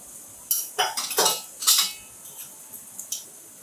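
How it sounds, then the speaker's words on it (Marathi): A metal spoon clinks and scrapes against a pan while a spoonful of turmeric goes into cabbage bhaji, a handful of sharp close taps clustered early, then lighter scattered clicks. "आता हळद टाकते 1 चमचा."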